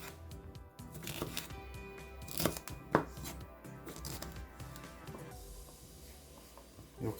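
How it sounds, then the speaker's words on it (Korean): Knife slicing through a paprika bell pepper on a cutting board, several soft crisp cuts at irregular intervals, close and fairly quiet. "파프리카를 자르실 때 이쪽에서 자르시면 껍질 때문에 미끄럽기 때문에 뒤집어서"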